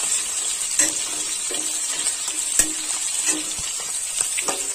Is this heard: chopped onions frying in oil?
yes